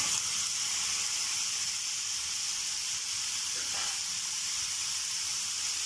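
Kaleji, goat liver, sizzles and hisses steadily on a hot tawa with warmed cumin seeds, a loud continuous crackle with no talking.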